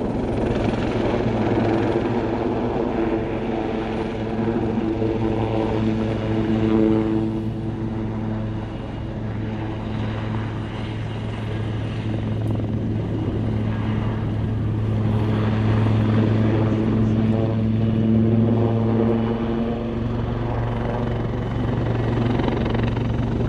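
A Royal Navy Wildcat maritime helicopter of 815 Naval Air Squadron flies nearby, its steady rotor drone and engine whine holding loud and constant with slight swells throughout.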